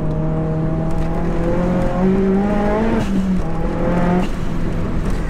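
A 480bhp big-turbo Seat Leon Cupra R accelerates hard in third gear on an open road, its engine note climbing steadily in pitch with a loud, close, whirring drone and a brief shift-like dip partway through.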